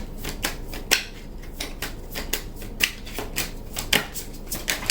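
Tarot cards are shuffled and drawn in a series of crisp, close riffling bursts and sharp flicks that come in an irregular rhythm, with no talk over them.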